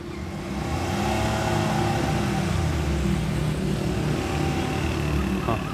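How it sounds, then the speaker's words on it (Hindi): A car's engine is held on a slope using only accelerator and clutch, with no brake. A close, steady revving drone hums without a break, rising slightly at the start and then holding level. "ढलवान पे गाड़ी खड़ी करके बार बार रेस और क्लच से गाड़ी को पिक कीजिए ताकि आगे जाए"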